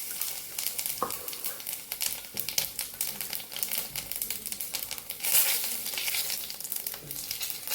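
Whole cumin seeds crackle and sizzle in hot oil left from frying fish, a steady busy spatter with quick pops running throughout, close and fairly loud, with no voices.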